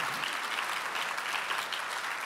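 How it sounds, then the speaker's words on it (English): Audience applause fills a summit event at a Dublin distillery, a dense steady patter of clapping hands that runs unbroken for a couple of seconds. "We have to applaud for all of these amazing sponsors."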